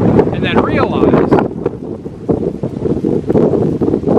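Strong wind buffets the microphone outdoors in the Ohio countryside, a continuous rough low rumble with gusty surges throughout, and a voice speaks briefly near the start.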